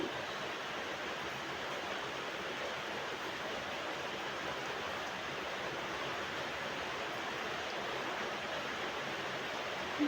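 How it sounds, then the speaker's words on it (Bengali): Hot water poured into cooked-down masala for a Bengali dhoka curry, giving a steady, continuous rushing hiss that holds evenly throughout, close and moderately quiet. "এবারে দিয়ে দেবো পরিমাণ মতো গরম জল এবার জলটা এড করে নিচ্ছি"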